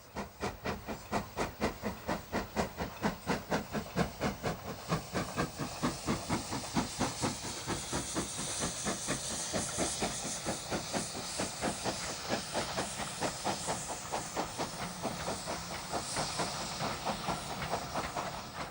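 Somerset & Dorset 7F steam locomotive No. 53807 hauling a passenger train, its loud, steady exhaust chuffs beating rapidly over a continuous hiss of steam and rumble for the whole stretch.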